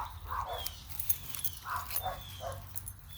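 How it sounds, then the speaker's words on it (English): Several small dogs yap and bark in short bursts, some overlapping, with a high whine in between, fairly close by. "Everybody has 15 small dogs in a kennel out back."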